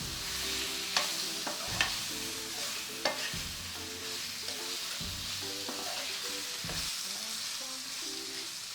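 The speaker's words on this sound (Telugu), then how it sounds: "ఇప్పుడు ప్రాన్స్ వేసి వేయించుకోండి." Prawns frying in a pan with ginger-garlic paste for a prawn and okra curry, a steady close sizzle with stirring and several sharp spatula clicks against the pan, no voices.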